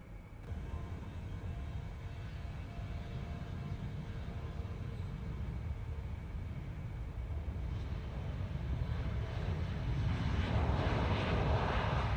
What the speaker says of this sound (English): That CRJ is so loud.